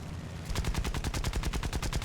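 A rapid, steady burst of machine gun fire from an A6M5 Ko fighter plane in War Thunder, close and continuous after a brief engine-like rumble.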